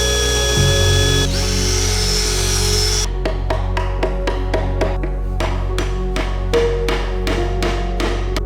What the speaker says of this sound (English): drill a little hole in the next to each of them